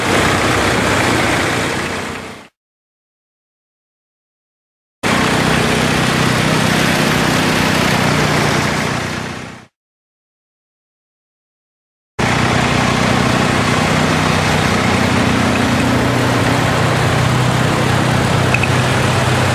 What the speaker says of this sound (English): driving tractor today